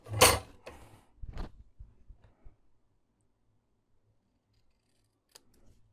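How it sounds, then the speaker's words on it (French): Scissors cut paper for a hidden gift box inside a book, with several crisp snips near the start followed by fainter clicks and a late single snip in quiet surroundings. "je vais venir couper de ma marque jusqu'au coin en haut et idem en bas"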